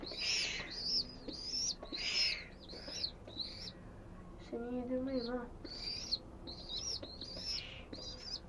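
Repeated high, thin chirps from young birds in short regular bursts, with a quiet voice speaking briefly in the middle.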